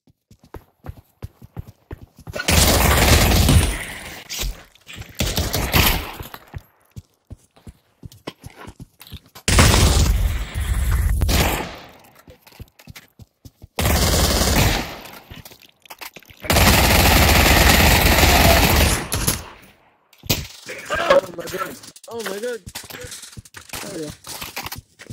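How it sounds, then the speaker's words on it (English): Gunfire in a VR shooter game, several loud sustained bursts of rapid shots separated by quieter stretches, with some speech in between. "I'm gonna shoot you."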